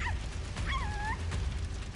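A puppy in a video game gives a couple of thin, rising whimpering whines over a low continuous background rumble.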